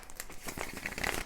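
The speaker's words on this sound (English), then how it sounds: "These cards are very hard to shuffle." Stiff tarot cards are shuffled up close, giving a quick, crinkly, papery rustle with small snapping ticks over about a second, with no voice.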